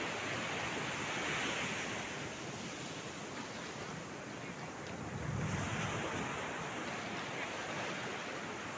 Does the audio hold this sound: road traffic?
no